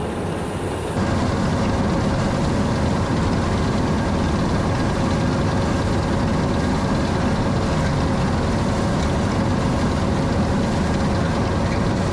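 A small tractor engine idles steadily and loudly close by, a continuous low rumbling drone with a constant tone and no talking.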